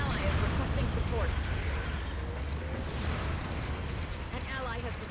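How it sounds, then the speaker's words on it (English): Long-range artillery support fire in the mecha game Gundam Battle Operation 2, heard as a dense, continuous roar of booming shell blasts and rumbling explosions that fills the clip, with battle chatter running through it. "Long-range support fire incoming."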